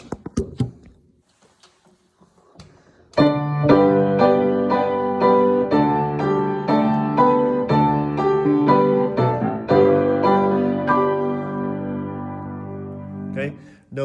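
Keyboard plays a hymn introduction to All Hail the Power, sustained chords with a steady melody after a few soft taps, slowing toward the end, alone and clear with no talking.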